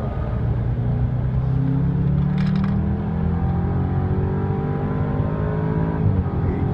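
A BMW accelerates hard on a race track with a loud, close engine roar that climbs steadily in pitch, continuous and without talk.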